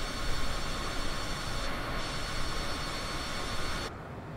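Steady, droning cabin roar of a Cessna Citation CJ4 jet in flight, constant and loud, ending with an abrupt drop in the upper hiss.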